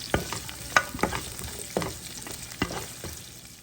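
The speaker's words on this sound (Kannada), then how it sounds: "ಹುರ್ಕೊಂಡಂಥ ಈರುಳ್ಳಿನ ಚೆನ್ನಾಗಿ ಹುರ್ಕೊಳ್ಳೋಣ ಒಗ್ಗರಣೆಯಲ್ಲಿ" Chopped onions fry in tempering oil, with a steady close sizzle broken by a handful of sharp scraping stirs from a spoon against the pan; no voices.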